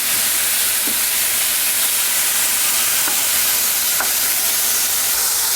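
Shrimp sizzle in a hot pan for a Greek ouzo shrimp dish after being flipped, giving a steady, loud frying hiss with a few faint clicks and no talking.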